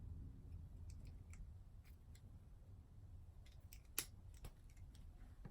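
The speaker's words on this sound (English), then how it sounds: "And then I cut." Scissors snip artificial flower stems for a rustic centerpiece, a series of small crisp clicks and cuts, one sharper snip standing out, faint against a low background hum.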